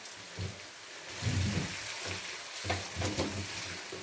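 Onions for bhindi masala fry in a pan with a steady, close sizzle. Soft stirring thumps rise and fall beneath the hiss.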